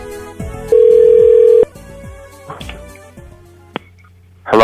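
A phone line rings on a radio call-in show: a steady electronic ring tone stands out loudly for about a second, set among dialing beeps and clicks, with no talk over it.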